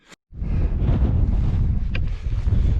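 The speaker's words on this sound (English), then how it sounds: "once again it's very windy" Strong wind roars across a microphone on a mountain hike on the Old Man of Coniston in the Lake District, a loud continuous buffeting rush after a brief silent gap at the start.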